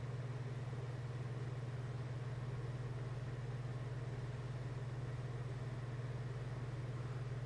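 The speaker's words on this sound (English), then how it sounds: "The engine's been making a noise for a while" An old van engine with a long-standing fault, run on thick oil, idles in a steady, faint, even hum with a strong low drone and no other sounds.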